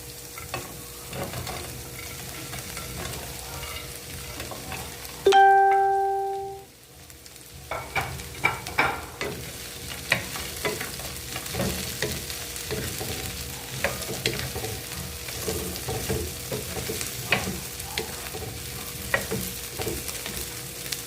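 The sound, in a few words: tofu being stirred and fried with green chili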